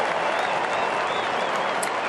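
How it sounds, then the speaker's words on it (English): Crowd at an AFL football match between Fremantle Dockers and Carlton clapping and cheering in a dense, steady wash of applause throughout. "And the crowd gets something to cheer about."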